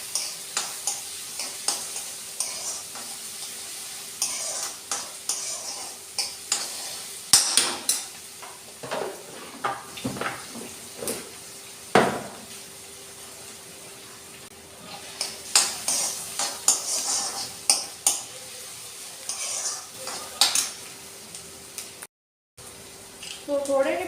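Onions sizzling steadily in a pan with scattered stirring clatters and scraping, close by, with occasional talk over the cooking.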